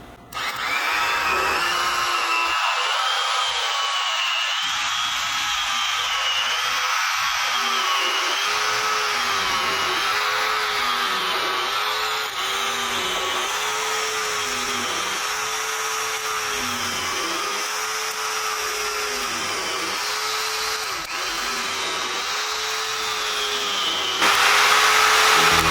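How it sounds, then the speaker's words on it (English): A 20-year-old electric knife slices through a rested steak, its motor droning steadily and close for the whole stretch, with a rhythmic wavering as the blades saw back and forth through the meat. "take my 20-year-old electric knife and slice it into thin"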